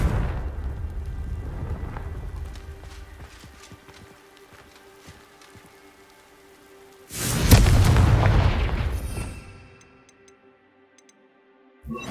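An explosive Confringo spell is cast in the Hogwarts Legacy video game. Quiet game ambience and faint ticks lead into a sudden loud fiery blast that roars for a couple of seconds, then fades away.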